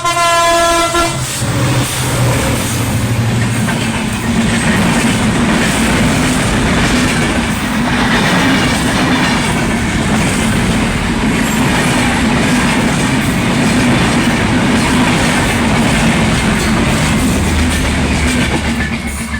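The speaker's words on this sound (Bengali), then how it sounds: "প্রতিদিনের মতো আজকেও সেই ট্রেনটা চলে আসছে" A train rolling past close by, a loud sustained rumble of wheels and cars with a horn blast at the start and rhythmic clatter throughout.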